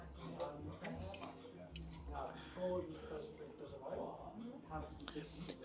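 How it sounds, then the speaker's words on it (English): Knife and fork cut through cooked meat on a plate at a casino restaurant, giving faint clinks and scrapes of cutlery on china beneath steady talking and busy dining-room chatter. "You're cutting through and it cuts so nicely."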